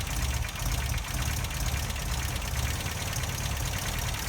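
An MGA MK2 car engine running on choke, a loud, close, steady rumble with a slightly uneven, lumpy beat throughout, no voices.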